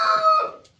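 A rooster crows once nearby in a barn, a loud, brief call that trails off quickly.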